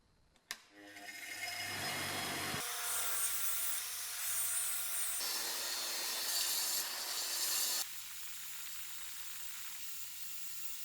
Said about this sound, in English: I can now remove the old paint from the body and the rust from the chuck